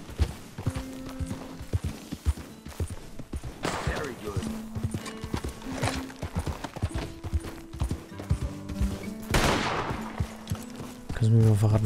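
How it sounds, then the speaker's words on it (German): Gunfire in the video game Red Dead Redemption 2 cracks out in a few sharp bursts among steady horse hoofbeats, game voices and background sounds. "Schüsse."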